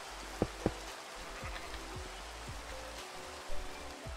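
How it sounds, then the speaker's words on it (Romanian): Steady rain falls in a Minecraft world, a soft continuous patter with a few louder clicks and thuds scattered through it, faint and alone with no voices. "Bă, da, plouă, nu glumă."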